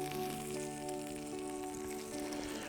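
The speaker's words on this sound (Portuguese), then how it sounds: "já está na hora da gente dar aquela seladinha, aquela fritadinha na nossa ova" Mullet roe frying in hot fat gives off a soft, steady sizzle, faint and continuous, with a low, even hum underneath.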